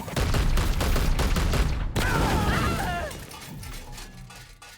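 Loud burst of rapid gunfire from a Warhammer 40,000: Chaos Gate - Daemonhunters battle, dense shots for about two seconds, then a sharp crash and whooshing, crackling effects trailing off quieter.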